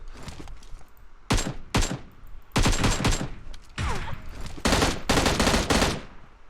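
Gunfire in the PUBG Mobile game: several sharp bursts of shots with brief gaps, loud and close, then a denser run of rapid fire toward the end.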